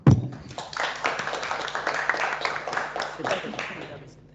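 Applause from an audience at a macroeconomic outlook event, a dense patter of clapping that holds at moderate loudness for a few seconds before fading.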